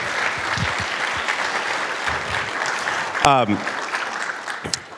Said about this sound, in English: So I want to give everyone a round of applause.